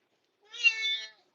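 A British Shorthair cat lets out a single drawn-out meow during a bath and grooming session, close and clear, with no voices.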